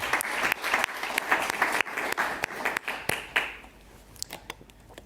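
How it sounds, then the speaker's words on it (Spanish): Audience at a Spanish health conference on loneliness and social isolation breaks into dense, loud clapping that holds for about three seconds, then thins out and fades to a few scattered claps. "Podemos aplaudir."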